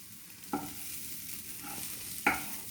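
Sweet corn upma is stirred in a pan after salt goes in, a quiet, steady rustle with two sharp spoon knocks against the pan, no voices.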